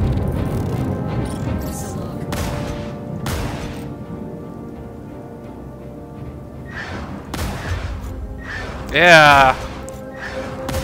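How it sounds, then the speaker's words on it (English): Star Citizen spaceship engine with a TIE fighter-like whine, a sharp rising-and-falling howl cutting through near the end amid gunfire-like bursts and booms, with talk heard over the battle. "sounds like a TIE fighter"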